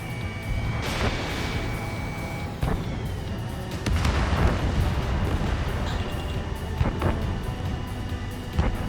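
Missile launches and explosions during Ace Combat 7 aerial combat, booming blasts and sharp bursts over a constant roaring jet drone, with a repeating warning tone early on.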